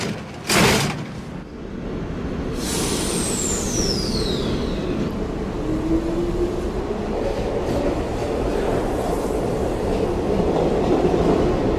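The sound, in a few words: metro subway train running on rails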